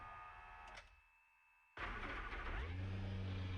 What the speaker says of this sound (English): let's go ahead and fire up this Ferrari.